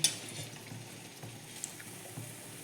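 Pitha frying in a little oil gives a faint, steady hiss of sizzling with a few light clicks, close by and with no talking.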